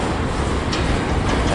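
A long CSX freight train rolls past in Fostoria, Ohio, a loud, steady, broadband rumble and rush of wheels on rail, close and continuous with no voices.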